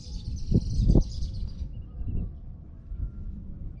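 Birds chirp in a bright, twittering burst at sunset near Banjul, Gambia, fairly faint, over low rumbling thumps before the calls fade.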